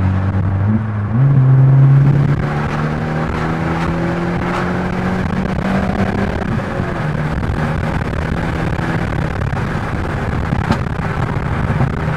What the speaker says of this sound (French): J'espère que vous entendez bien les retours sur la vidéo parce qu'il y a des sacrés retours qui sont costauds.